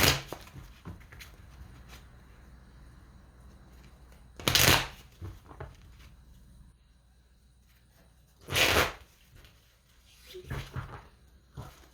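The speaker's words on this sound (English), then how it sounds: "If I can shuffle the deck properly." Cards being shuffled: soft riffling with a few sharp bursts of flicking and bridging, fairly close, between quieter handling noises.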